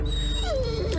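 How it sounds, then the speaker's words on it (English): A dog in the video game Blair Witch lets out a brief whimpering, whining cry that slides downward over a constant low background hum, heard without any talking. "I'm just gonna turn my headphones down because I don't wanna hear the dog."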